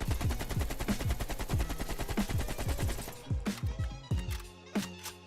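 An AK-47 rifle fires in the video game Black Ops Cold War: rapid, punchy automatic bursts heard up close, thinning into a few spaced single shots near the end.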